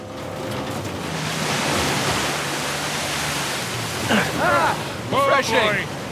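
Rushing waterfall beside a secret cave in the video game Uncharted 4, a broad, steady roar of falling water filling the scene, with a voice breaking in over it near the end.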